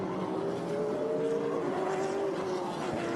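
Trans Am TA2 race cars at speed on the Belle Isle street circuit in Detroit, engines droning steadily and loudly through the whole stretch with a rising and falling whine, no voices on top.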